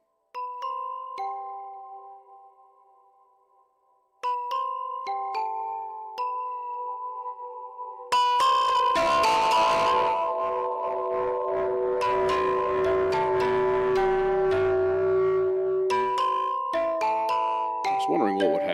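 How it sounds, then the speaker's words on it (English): Ekksperimental Sounds Ouroboros effect in multi-feedback chaos mode: clean chiming notes ring out and decay for about eight seconds, then a loud, dense wash of smeared feedback texture with sustained tones and bright fizz fills the rest. "this is multi-feedback chaos effect"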